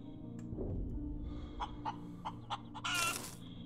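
A chicken clucks in the space survival game Breathedge: a series of short, sharp clucks over a steady low hum, ending in a brief louder squawk, with no talk.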